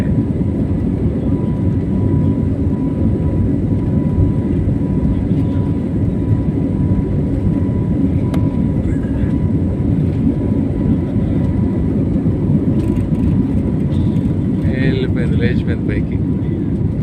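Steady loud low roar of jet engines as an airliner lifts off from Chennai airport, heard from inside the cabin as a constant rumble with faint chimes and light clicks, no clear talk.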